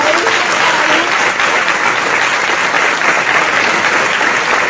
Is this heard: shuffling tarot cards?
no